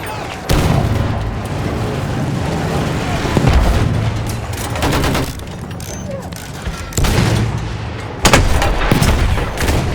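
Gunfire and booming explosions from a Battlefield 1 match on the Somme, with bursts of rapid fire and heavy blasts repeating across the scene, loud and close amid constant battle noise.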